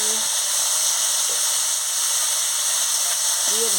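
Chopped tomatoes hit a hot pan with a steady hissing sizzle that holds evenly throughout, with faint clinks of a spoon or utensil now and then.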